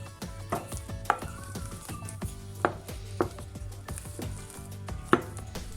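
Beaten egg yolks are folded into whipped egg whites for a fluffy omelette with a utensil in a bowl, giving a series of soft repeated knocks and scrapes at an irregular rhythm, close up and with no talking.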